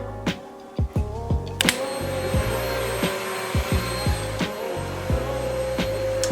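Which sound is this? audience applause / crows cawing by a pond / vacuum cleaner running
vacuum cleaner running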